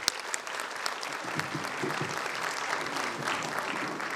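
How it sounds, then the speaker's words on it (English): Sustained applause from an audience at a medical institute's convocation ceremony, a dense steady clatter of many hands clapping throughout, moderately loud with a faint crowd murmur beneath. "Please give a big round of applause"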